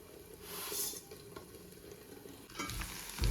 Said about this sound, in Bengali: এদিকে ভাজাটাও করছি